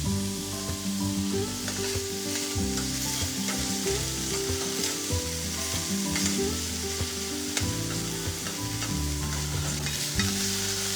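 Kangaroo meat sears in a hot pan with a continuous loud sizzle and crackle, broken by recurring scrapes and clinks of stirring, close up and with no talking.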